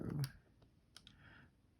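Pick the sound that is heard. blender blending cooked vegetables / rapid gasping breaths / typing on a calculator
typing on a calculator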